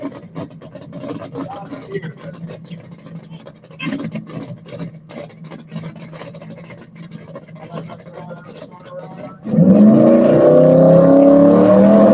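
Drag race cars at a racing event, Ryan Martin's engine cutting on and off the throttle, starts as distant choppy sputtering under crowd noise, then a loud close engine roar swells in over the last few seconds.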